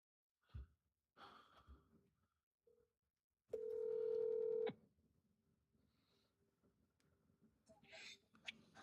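A phone call is placed: a few soft keypad sounds, then a single loud steady ring tone lasting about a second, followed by faint breathing and quiet rustling in an otherwise hushed room.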